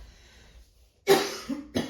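A single harsh cough breaks out of near silence, followed by a shorter second cough, close and loud, with a faint hum beforehand.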